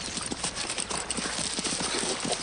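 Horse hooves clip-clop steadily on hard ground in a rhythmic, fairly close walk, with faint voices underneath.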